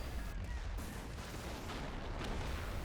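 Mortar fire in a video game battle: dull explosive thuds blend into a continuous rumble of combat noise at moderate, even loudness.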